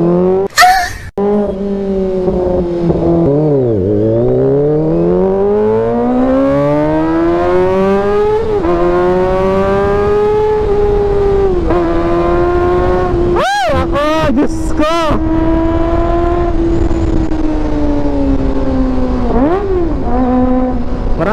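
A 2023 Kawasaki ZX25R revs loud and close while riding, its high inline-four wail climbing and dropping through repeated throttle sweeps and gear changes, with a few sharp bursts of wind or handling noise.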